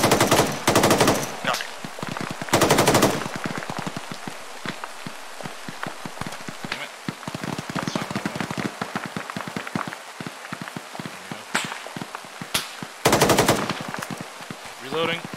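Machine gun fire in an ArmA 3 combat operation: long loud automatic bursts rip out in several strings, with scattered single shots and distant rattling between them, and voices speak underneath.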